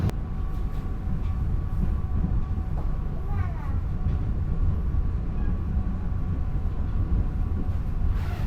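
The Matarmaja New Generation passenger train, a modified train, runs with a steady low rumble and rolling rail noise, joined by faint squeals and thin tonal whines from the cars.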